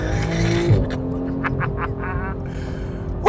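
A 2014 Porsche 911 GT3 launches under launch control on damp pavement, its engine revving hard then pulling away with brief tire chirp and rising, rapid gear-shifting roars, loud and close.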